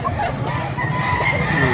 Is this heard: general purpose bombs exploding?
no